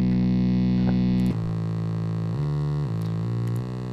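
A simple free software bass plugin run through an amp simulator for a beefy, distorted tone, playing a sustained bass line that shifts pitch a few times, loud and steady with no talking.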